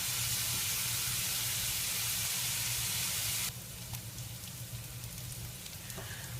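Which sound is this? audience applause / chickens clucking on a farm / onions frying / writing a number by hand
onions frying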